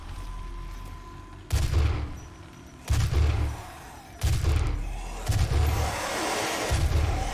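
A cannon weapon in the video game Doom (2016) fires five heavy booming shots at roughly one-second intervals, each a loud close blast with a short rumbling tail over quieter game ambience.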